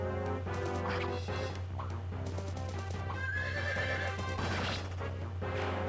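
A horse whinnies loudly in the Fire Emblem 7: Blazing Sword video game, its neigh rising over clip-clopping hooves, a crash and a steady low game hum.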